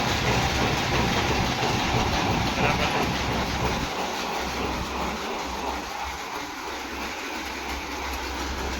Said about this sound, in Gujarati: તો મિત્રો આ છે આપણું જો મગફળી ફોલવાનું મશીન, અત્યારે G22 મગફળી ફોલવાનું હાલે છે